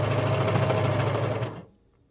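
A serger sewing machine runs steadily through sweater fabric with a fast, even mechanical whir, then winds down and stops, leaving near silence.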